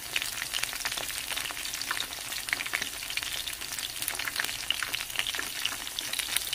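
Tempura shrimp frying in hot oil on a home stovetop, a steady close crackle and sizzle with dense popping throughout, no talk.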